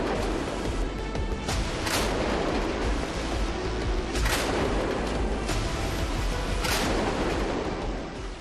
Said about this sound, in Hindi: सुपर रैपिड गन माउंट खास तरह की ऑटो कैनन है, यानी कि ऑटोमेटिक तोप